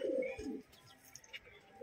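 A young Madras high-flying pigeon coos softly, a few low warbling notes close by, then quieter chirps and faint background noise.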